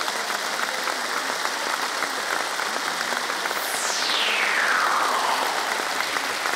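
Studio audience at the Serbian singing competition Zvezde Granda breaks into sustained applause, a thick, even roar of many hands. Partway through, a falling whoosh effect sweeps down across the clapping.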